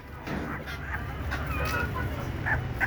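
Desi country chickens clucking in a continuous close cluster of soft, overlapping calls over a steady low rumble of background noise, with a few brighter, sharper clucks standing out toward the end.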